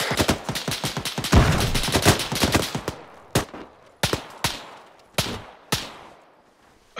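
A long rapid machine gun burst in ArmA 3 rattles close and loud for about three seconds, then trails off into a handful of separate heavy shots spaced roughly a second apart.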